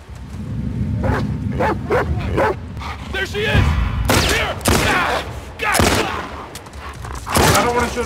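Dogs bark and yip in the video game The Last of Us Part II, in sharp bursts mixed with gunfire and game noise, while a player talks over them.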